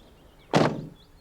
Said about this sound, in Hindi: ओ भाई जब दरवाजा बंद होता है तो बहुत तेज थर्ड आता है